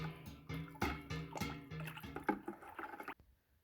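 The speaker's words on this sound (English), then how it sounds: "Stir it up." A cucumber elixir liquid being stirred by hand, giving a run of rhythmic clinks and watery swishes at close range, roughly one stroke every half second, stopping abruptly near the end.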